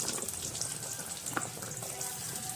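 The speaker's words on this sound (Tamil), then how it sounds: "எண்ணெய் காஞ்சவொன்னே வெங்காயத்தை போடணும்" Four large onions dropped into hot oil for Bombay chutney, hissing and sizzling as a dense, steady crackle close by, with a few sharper pops and no talking.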